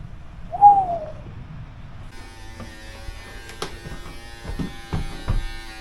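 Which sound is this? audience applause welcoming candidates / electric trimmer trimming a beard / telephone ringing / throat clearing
electric trimmer trimming a beard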